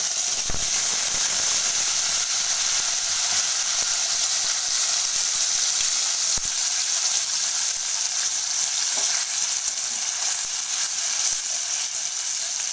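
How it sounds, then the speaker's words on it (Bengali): Ginger, green chili and tomato paste sizzles in hot oil with a loud, dense, continuous hiss and a few sharp spatters, close up, with no talking. "এই আদা, কাঁচা লঙ্কা, টমেটোর পেস্টটা দিয়ে দেব।"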